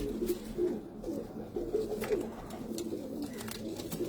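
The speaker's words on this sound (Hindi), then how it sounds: "तो ये ऐसा कबूतर है मेरा वाला" Soft, repeated cooing of a pied domestic pigeon with blue-black markings, kept on a rooftop loft in Muscat, Oman; low burbling coos roll on steadily at close range over faint background murmur.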